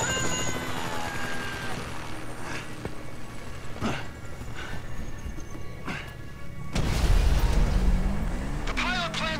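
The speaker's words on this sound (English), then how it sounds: "Chopper! Incoming!" A helicopter in GTA V: a steady droning rotor hum runs throughout with faint thumps and shots, swelling louder near the end as vehicle noise and voices join in.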